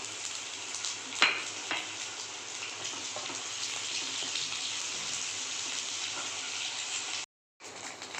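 Eggs frying in a pan with onions already cooked in oil, a continuous crackling sizzle with a sharper spatter near the start, steady and close, cut by one brief silence near the end.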